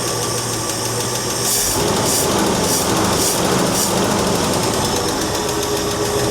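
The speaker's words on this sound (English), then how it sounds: "Give it a little rev, see what it does." An engine that had sat for almost 15 years revs up from a low idle into a loud, steady roar that holds for several seconds, with rhythmic pulsing and a rough, knocking edge.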